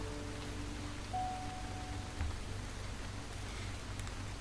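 Rain in the game Starbound, a steady hissing patter of falling drops with a faint low hum underneath, even and unbroken throughout.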